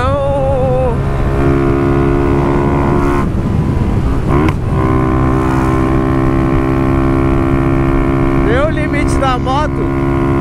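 A Start 160 motorcycle engine drones steadily throughout with a constant low hum, briefly rising in pitch near the end as it revs.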